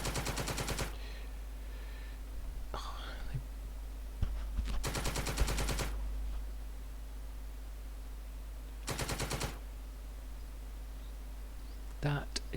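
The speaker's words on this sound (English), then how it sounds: "Sniper fire and miss." Bursts of sniper and machine-gun fire from a tabletop war game scenario, three sharp rattling volleys separated by quiet gaps, with a low steady hum beneath and a few faint clicks.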